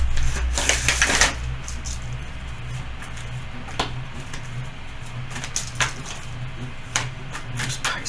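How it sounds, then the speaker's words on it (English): A deck of oracle cards is shuffled by hand with soft riffling flicks and papery taps, brisk at first and then in scattered bursts, close and quiet over faint background hum. "I feel like I need to shuffle them a little bit more with you"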